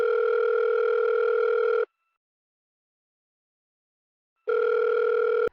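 A phone rings out on a call placed by voice command to someone named Ronnie, two long ringback bursts separated by a gap of silence, steady and fairly loud with no talk.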